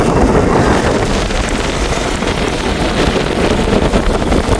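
Strong wind blows hard during flooding in Jaffna, buffeting the microphone with a loud, continuous roar and gusty rumble that never lets up.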